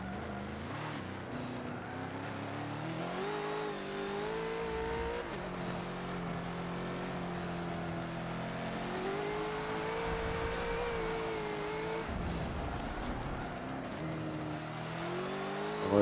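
A Bentley GT3 race car engine in the Forza racing game revs and climbs through the gears at Laguna Seca, a continuous loud whine that rises and falls with brief dips at shifts, with no speech.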